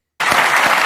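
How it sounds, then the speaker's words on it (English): Studio audience applause on a daytime talk show starts abruptly after brief silence and continues as a dense, loud wash of clapping. "I'm glad that got an applause"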